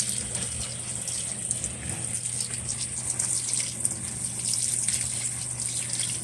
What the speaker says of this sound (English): We're adding more water